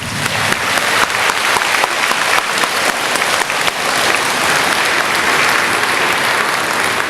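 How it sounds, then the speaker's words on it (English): At an award ceremony, an audience gives dense, continuous applause, many hands clapping loudly and evenly throughout with no break. "Can you give yourselves a big round of applause for doing that?"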